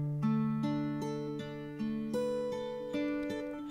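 A separately performed electric guitar part panned to the right channel, picking a short melodic figure with ringing notes, several plucked attacks in a steady rhythm, clean and moderately quiet, with no talk.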